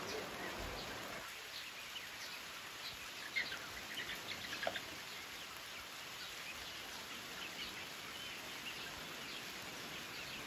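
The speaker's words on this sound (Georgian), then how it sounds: "წვიმამ კიდე მოიმატა, მთელი ღამე წვიმდა." Steady rain falls over a village after a whole night of rain, a constant close hiss of drops on surfaces with faint bird calls in the background.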